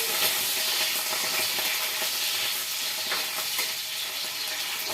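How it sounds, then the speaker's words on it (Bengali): Cut potatoes frying in hot oil in a kadai for a jackfruit curry, giving a loud, dense, continuous close-up sizzle with faint stirring clicks and no talk. "প্রথমে এই যে আলু কড়াতে ছেড়ে দিলাম, করে কেটে কড়াতে ছাড়লাম"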